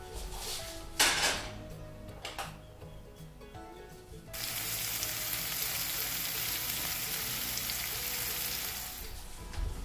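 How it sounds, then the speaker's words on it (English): Bacon bits sautéing in a pan over medium heat, a steady, fairly quiet sizzle that swells louder partway through, preceded by a few clinks and scrapes of utensils. "We're going to get them sauteing in the pan"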